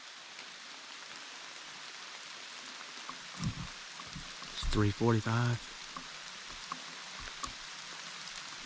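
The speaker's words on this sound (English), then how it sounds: "Well, it's raining harder." Heavy rain falls outdoors by a creek and a large CRP field on Missouri public land, making a steady, even hiss throughout. Someone speaks briefly partway through.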